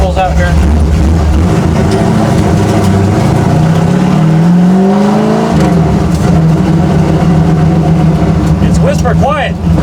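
A 1966 Ford Mustang race car engine rumbles loudly at low speed, its deep idle-like drone rising briefly in pitch as it accelerates, with a voice talking over it.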